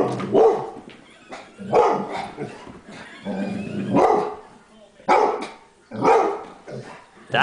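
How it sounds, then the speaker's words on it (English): A dog barks in repeated loud, close bursts about once a second, mixed with yips and whimpering sounds, with little else in the background. "That is a dog's bark."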